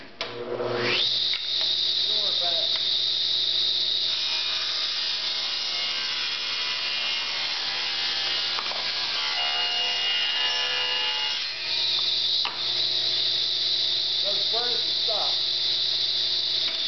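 Table saw cutting a board of cherry wood: a continuous loud whirring, rasping cut running steadily for the whole stretch, with brief dips where the feed pauses and resumes.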